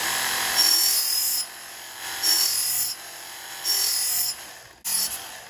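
A Work Sharp MK II belt sharpener grinding a hatchet edge: the motorized belt whirs steadily while the blade is pressed on in four short bursts of brighter, louder grinding, close up and without speech.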